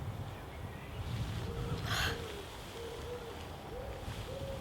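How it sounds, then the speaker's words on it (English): A bird gives soft, faint hoots like an owl, several short even calls spaced across a quiet background, with a brief breathy burst partway through. "It's a bird."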